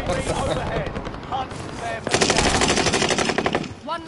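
Rapid automatic gunfire from a weapon in Warzone on the Caldera map, a dense sustained burst in the middle of the clip, loud and close, with voices talking around it.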